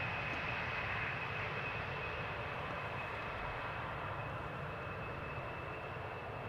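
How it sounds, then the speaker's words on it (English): A KLM Embraer 175 airliner arrives at Amsterdam Schiphol after a flight from Prague, heard as a faint, distant, steady engine roar with a thin whine on top, alone with no voices. "Embraer 175, KLM flight 1352, returning from Prague, the Czech Republic"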